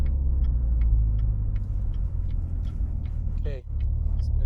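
A Corvette Z06 C7 in sport drive mode gives a deep, steady engine rumble from inside the cabin, holding fairly loud and even with light ticking over it and a brief dip near the end.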